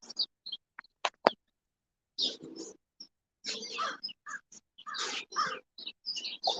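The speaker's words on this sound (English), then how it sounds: "Call. Goes the crow." A crow caws in a series of short, scratchy calls, some close and loud, with gaps of quiet between bursts outdoors.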